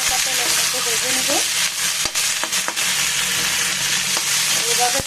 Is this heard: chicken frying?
yes